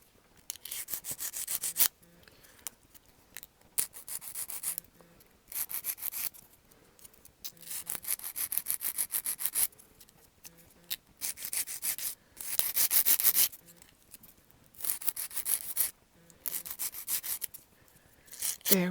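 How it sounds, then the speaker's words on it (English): Sandpaper rubs wobbly edges off a wooden lucet in repeated bursts of close, scratchy back-and-forth strokes, each lasting a second or two, separated by short pauses across the whole clip. "if there's any kind of wobbly lines that aren't quite all that wonderful, well, that's fine. You can just sand those off too"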